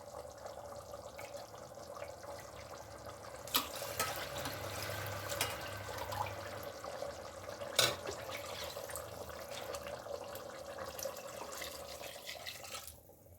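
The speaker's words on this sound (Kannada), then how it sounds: "ಇದಕ್ಕೆ ಈಗ ಎಷ್ಟು ನೀರು ಬೇಕೋ ಅಷ್ಟು ನೀರು ಹಾಕ್ಬಿಟ್ಟು ಉಪ್ಪು ಹಾಕ್ಬಿಟ್ಟು" Water pours into a cooking pot for a home-cooked meat biryani. It is a soft, continuous splashing stream with a couple of sharp clanks, quiet throughout with no talking.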